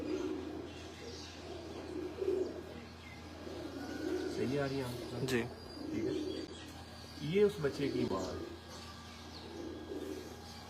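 Pigeons on a Lahore rooftop loft coo in low, repeated bursts close by, with a Teddy-eyed hen among the flock, while someone talks over them.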